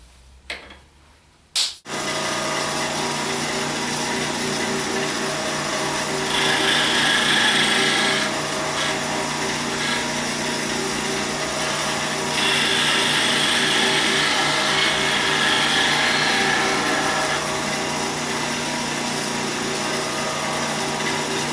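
A wood lathe turns a tree limb while a 3/4 inch skew chisel cuts it for coat buttons; a continuous motor hum with a steady rough cutting hiss that swells in two longer passes. A brief knock is heard near the start.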